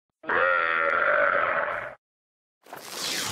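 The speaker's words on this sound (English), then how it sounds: "C is for camel." A camel lets out a deep, throaty grunting groan that holds steady for nearly two seconds before cutting off. After a short silence a different noisy sound begins. No one speaks.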